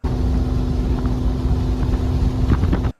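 A custom vintage Ferrari V12 fitted with Weber carburetors idles with a steady, loud, close rumble and a constant tone for the whole clip, ending abruptly. No one speaks.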